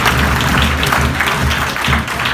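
Loud, dense applause from a college audience at a comedy event, filling the whole stretch with steady clapping and no speech.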